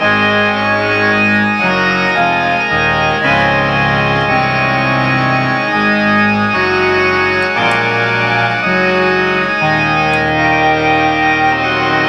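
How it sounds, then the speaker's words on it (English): A loud Memorymoog synthesizer pop organ tone plays continuous sustained chords with a gritty, effected texture, shifting harmony every second or so without pause. "Like a pop organ sound there."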